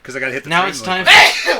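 A single loud, sharp sneeze bursts out close by right after a man's speech on a talk show.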